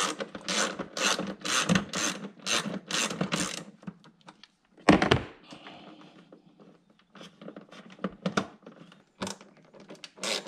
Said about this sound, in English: The ones that hold the spoiler on are 10 millimeter, deep socket is easier, and there's two in the corner.